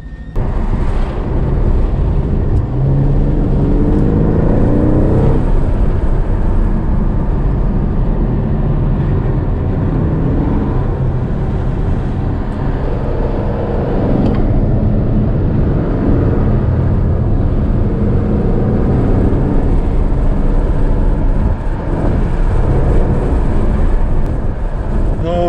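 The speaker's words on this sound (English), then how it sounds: "I'm driving a 2018 Aston Martin DB11 V8" A 2018 Aston Martin DB11 V8 in magnetic silver is driven around a track at Autobahn Country Club. It gives a loud, continuous engine drone with road and wind roar from inside the cabin, and the level holds steady without voices.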